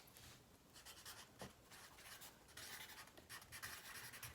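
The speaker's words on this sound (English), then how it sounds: "Okay, so you can write your name." A pencil scratches on paper as a name is written on a math test in a classroom, with soft, faint rubbing strokes coming in short bursts.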